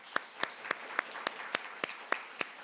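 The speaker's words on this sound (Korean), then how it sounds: "함께 격려의 박수" Scattered, sparse handclaps ring out at a Korean church Sunday service, a few separate claps spaced evenly and fairly faint in a quiet room.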